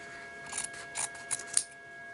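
Scissors cut through recycled denim jeans for a sewing project, making four quiet, crisp snips in quick succession against a faint background hum.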